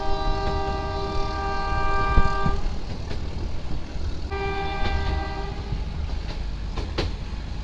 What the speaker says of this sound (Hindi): पहाड़ों के बीच से ये जो ट्रेन है निकलेगी